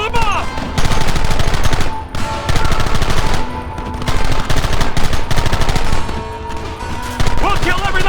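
Heavy video game gunfire in a Red Dead Redemption shootout: loud, sustained volleys of overlapping rifle and machine-gun shots with brief pauses between bursts, suggesting many shooters firing at once.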